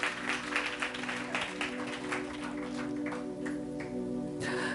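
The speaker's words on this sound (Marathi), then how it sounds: "जरा जोरदार टाळ्या प्रभूच्या गौरवासाठी" A congregation at a Christian worship service gives a burst of applause to glorify the Lord, fairly faint, with sustained musical tones humming underneath the clapping.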